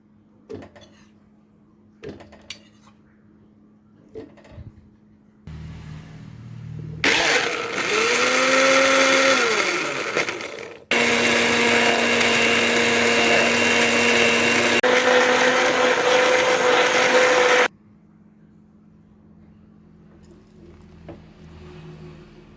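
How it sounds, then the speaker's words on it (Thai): Keto suki dipping sauce ingredients are blended with no water added. A few knocks come first, then a loud blender motor whirs in two long bursts with a brief pause between them, and quieter handling sounds follow. "เอาทุกอย่างไปปั่นรวมกันค่ะไม่ต้องใส่น้ำนะคะ"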